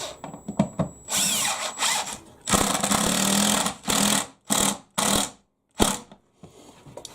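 A power drill countersinking screws into glued wood, several short whirring bursts of varying length separated by pauses, close and loud with no talk.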